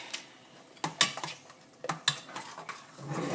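A spoon stirs plantain porridge with cinnamon and nutmeg in a pot, making irregular metallic clinks and scrapes against the sides. A few sharper knocks stand out over a quiet background.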